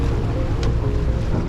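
A sailing boat motors under engine power near IJsselmeer, with a steady low engine drone mixed with wind and water rush, loud and continuous with no talk.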